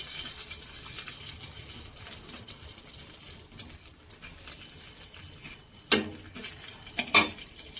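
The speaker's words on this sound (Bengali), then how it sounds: "একটা শুকনো লঙ্কা ফোড়ন দেবেন।" A dry red chilli hits hot oil for tempering: a faint, low sizzle holds for several seconds, then two sharp, loud bursts of crackling spit near the end.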